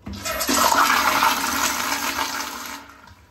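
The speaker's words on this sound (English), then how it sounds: "Nice, quick flush." A Sloan Regal flushometer toilet flushing after its repair, a loud rushing surge of water that holds steady for about two seconds and then tapers off, with no voices over it.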